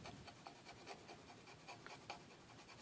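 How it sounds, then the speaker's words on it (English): A fine-tipped lead pencil scratches softly as it colours in the windows of a scale model, faint close strokes in a quick irregular rhythm. "Take a fine tipped pencil"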